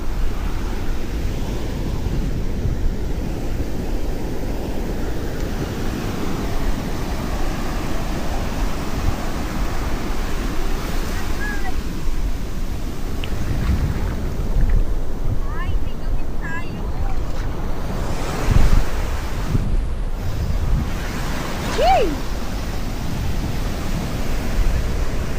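Ocean surf on a beach at Caramoan, a continuous broad wash of waves mixed with wind buffeting the microphone, steady and fairly loud, with faint voices now and then.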